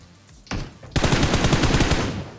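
Rapid automatic gunfire in PUBG Mobile as a player shoots at bots, a single shot followed by a dense, fast burst of loud close shots lasting about a second and a half.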